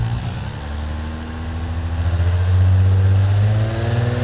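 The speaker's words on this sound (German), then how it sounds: "machen wir hier mal den Motor an" Car engine in the video game Automation, running steadily with a low throbbing drone that swells in pitch and loudness midway like a gentle rev, alone without talk.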